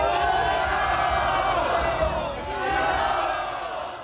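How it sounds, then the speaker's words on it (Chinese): A huge crowd of pilgrims cheers and roars outside Chaotian Temple in Beigang, Yunlin, during the Baishatun Mazu procession, a dense continuous wash of voices that swells and dips over a few seconds. "在欢呼声下，信徒高举手机记录下这一刻"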